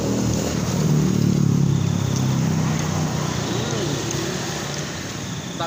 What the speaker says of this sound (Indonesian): Di diasi dengan suara-suara mobil dan motor